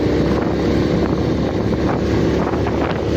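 A Suzuki Smash motorcycle climbs a mountain road, its engine a loud, steady drone throughout, heavily mixed with rough wind buffeting on the microphone and no clear speech.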